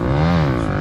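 Yamaha R15 V4 motorcycle with an aftermarket loud exhaust, a short close burst of engine note whose pitch rises and falls as the rider revs during a wheelie.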